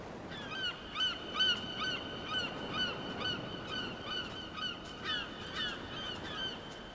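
A flock of seagulls in Dragon's Dogma: Dark Arisen keeps up a constant chorus of overlapping squawking calls, loud and continuous, set over a low background rumble.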